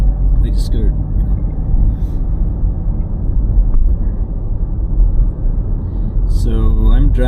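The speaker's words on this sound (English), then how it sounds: "So I'm driving on the Kranichstein" Steady low engine rumble and road noise from inside a car driving through Kranichstein in Darmstadt, Germany, continuous and fairly loud, with someone talking over it in places.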